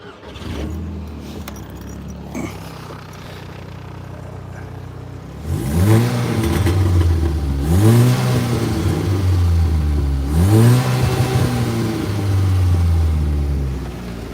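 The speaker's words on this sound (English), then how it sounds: "I'll give you a bit of exhaust noise from this one" A car engine idles, then revs up through its exhaust in three rising and falling bursts. The revs are loud and close, with no talking.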